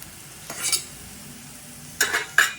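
Short bursts of sizzling and crackling as mustard seeds hit hot oil against a quiet background, three or four quick spurts spaced apart.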